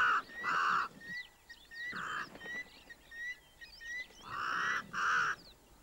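A crow caws at the Etosha waterhole in Namibia, giving several loud harsh calls in bursts, with smaller birds chirping and twittering faintly in between.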